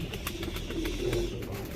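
A 17- to 18-year-old border line pigeon coos in a low, soft, steady murmur, close by and moderately loud, with faint bird chirps and background noise around it.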